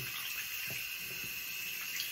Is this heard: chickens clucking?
no